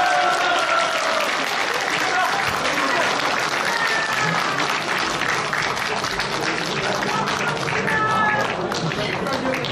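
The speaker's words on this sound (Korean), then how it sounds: "두분 박수 부탁드립니다" Audience applause for two guests being welcomed at a public talk, sustained steady clapping across the whole stretch, fairly loud and continuous, with a few voices and cheers mixed in.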